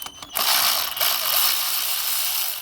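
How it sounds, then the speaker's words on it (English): A Hyper Tough cordless ratchet spins a bolt loose from a Mazda CX-5 2.5 engine during a coil pack job, a brief quiet start followed by a steady, close, buzzing whir that runs on without pause. "My new Hyper Tough cordless socket, cordless ratchet."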